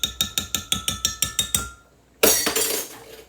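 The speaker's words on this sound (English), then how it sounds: "And then we'll whisk it" A whisk beats ingredients in a bowl in a home kitchen: about nine quick, evenly spaced clinks, a brief pause, then a louder rush of scraping.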